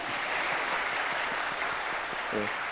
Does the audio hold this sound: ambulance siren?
no